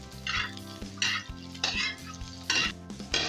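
Onions and leaves being stirred in a frying pan, with bursts of utensil scraping against the pan recurring every second or so over a steady low sizzle, close and fairly quiet.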